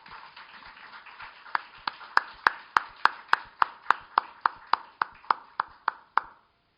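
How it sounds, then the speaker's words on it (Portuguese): A lecture audience applauds a speaker at a literary talk on the origins of the short story. Broad clapping rises steadily, with a run of louder, evenly spaced claps standing out before the noise fades near the end. "uma salva de palmas para ele"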